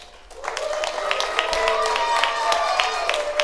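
An audience at a school district board of education meeting applauds a grade 10 high school student, the clapping building quickly and then holding as a steady, close wash while a voice talks over it.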